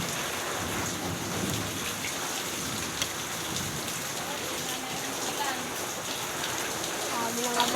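Heavy rain pours down steadily in a continuous broadband hiss, with occasional low rumbles of thunder mixed in, close and unbroken for the whole stretch.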